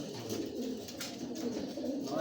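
Racing pigeons in a loft coo with low, throaty, repeated calls, several birds close by, under a faint murmur of talk.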